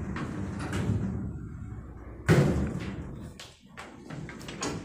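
Doors of a Montgomery hydraulic freight elevator at a mall in Columbia sliding shut: a rolling slide ending in a sharp thud midway, followed by lighter knocks and rattles, with faint voices nearby.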